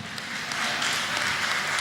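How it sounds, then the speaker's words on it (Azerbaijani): Sustained, dense applause from a large audience greeting Qoşabulaq village, loud and steady throughout with no clear gaps. "Qoşabılaq kəndini gürültülü alqışlarla salamlayaq"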